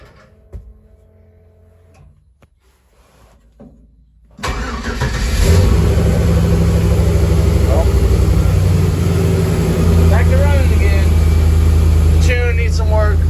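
A 1936 GMC truck engine cranks and catches, then settles into a loud, steady idle that rumbles on close by after a few quiet clicks and faint sounds.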